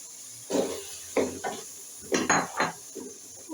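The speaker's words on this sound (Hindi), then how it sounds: "अब इसके अंदर मैं आलू शामिल करूँगी।" Potatoes go into a cooking pot with pea-filled curry, making several clattering thuds and metallic knocks of a spoon against the pot, close and intermittent over a faint background hiss, with no talking.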